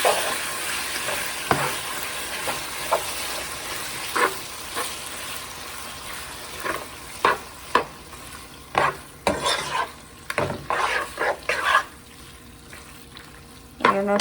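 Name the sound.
stirring liver and onions frying in a pan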